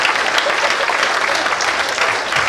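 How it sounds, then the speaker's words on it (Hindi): An audience at a live Hindi comedy show claps loudly and steadily, a dense, continuous burst of applause that fills the whole span without a break. "एक बार हाथ खड़े करके तालियां बजाओ जरा"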